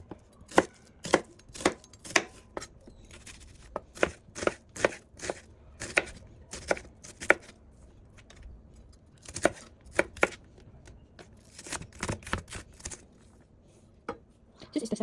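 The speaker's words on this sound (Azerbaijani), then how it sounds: "Bir dənə də soğanı xırda doğrayıb tavaya əlavə edəcəyik." An onion is finely chopped by hand with a knife on a board: a steady series of crisp, close chops in uneven bursts, with short pauses between runs.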